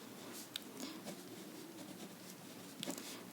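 A pen scratches faintly across paper while writing out a geometry proof about congruent triangles, giving soft, close, intermittent strokes with a couple of small taps and no talking.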